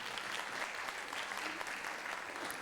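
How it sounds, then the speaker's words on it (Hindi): A room full of people applauds at a Bollywood classics music performance, with dense, even clapping that continues throughout. "मैं चाहती हूँ जोरदार तालियां इन दोनों के लिए।"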